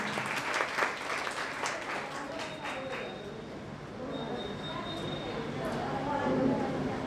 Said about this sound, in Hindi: इंदिरा गुप्ता जी के लिए एक बार जोरदार तालियां।